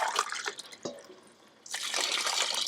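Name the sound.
water poured into rice for Madhuram biriyani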